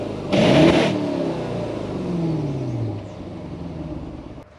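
A stock 2005 BMW 545i with the N62 V8, an engine known for burning oil, gives a sharp rev near the start, then settles into a steady, rumbling idle that fades slightly toward the end.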